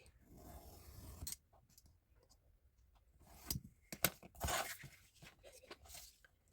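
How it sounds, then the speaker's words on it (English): Scissors cutting a paper template outward from a fold line: a few quiet, separate snips and crisp paper rustles spread across a mostly hushed stretch, with a closer cluster of cuts near the end. "And I'm going to cut from that fold line out this way."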